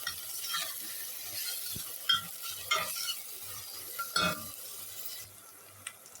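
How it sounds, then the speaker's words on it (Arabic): Chopped onion sautés in a pan with a spoonful of black pepper: a soft background sizzle broken by several scraping stirs of a spoon against the pan, moderately quiet with no voices. "هننزل على البصله بمعلقه فلفل اسمر، بتدي ايه طعم وريحه وهي البصله بتتشوح"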